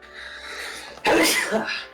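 A single sharp sneeze bursts out partway through, loud and close, during a tabletop role-playing game session with people talking before and after it.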